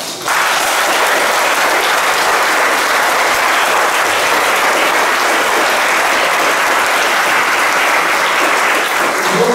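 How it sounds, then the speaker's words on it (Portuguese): Sustained applause from a church congregation fills the room, steady and dense from start to finish with no break. "Merece uma grande salva de palmas."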